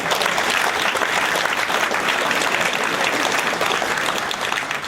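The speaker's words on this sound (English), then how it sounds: "Round of applause." A live audience applauds in a room at a politics and media event, steady dense clapping held at an even, fairly loud level with no break throughout.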